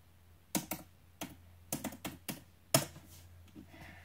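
A password is typed on an HP computer keyboard: a short, irregular burst of crisp key clicks, close and fairly quiet, with brief pauses between strokes.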